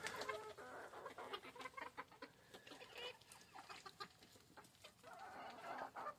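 Hens and a rooster clucking around a farmyard while being fed deer burger, a faint, continuous run of overlapping clucks with no voices.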